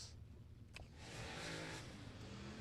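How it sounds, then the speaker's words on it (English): A race car engine winds up during qualifying at Hidden Hollow Speedway for the American All-Star Series. The revving builds and holds steady over a low rumble, moderately close, with no talk. "As Brandon Fowles going to get that car wound up"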